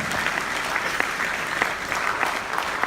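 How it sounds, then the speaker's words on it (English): A conference audience at a catastrophe risk management symposium applauds for a professor, with dense, steady clapping from many hands that fills the room evenly throughout. "put your hands together for the loudest applause for Professor Harish Shah"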